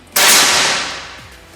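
A single loud air rifle shot cracks sharply up close, then fades away in a long, hissing decay.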